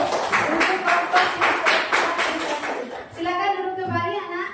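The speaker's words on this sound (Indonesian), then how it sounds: "Tepuk tangan dulu untuk kelompok" Schoolchildren in a classroom clap rhythmically together for a group of classmates, a loud steady patter of many small hands that fades as voices take over near the end.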